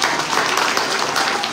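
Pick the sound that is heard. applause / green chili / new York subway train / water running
applause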